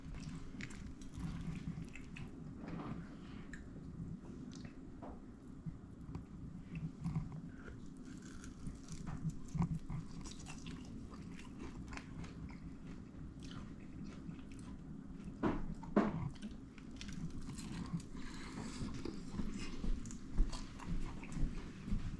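Close-up biting and chewing of crunchy smoked chicken wingettes cooked on a Pit Boss smoker, with repeated crisp crunches and wet mastication sounds throughout, no talking.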